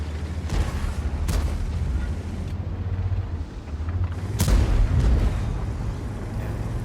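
Tank cannon shots traded with a Badger in a tank video game, several heavy booms over a steady low engine rumble, the loudest near the middle.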